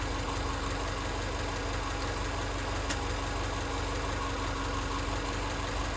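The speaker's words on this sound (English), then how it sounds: "engine is running and warm" A warm 2007 Subaru Outback engine idles steadily, with a constant low hum and even rumble throughout and no talking.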